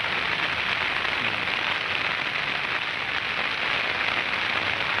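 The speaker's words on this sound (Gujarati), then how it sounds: "ચારેક વાર પૂરેપૂરો વરસાદ છે આજે." Steady rain pours down, a dense, even hiss of drops hitting surfaces with no pauses and no voices.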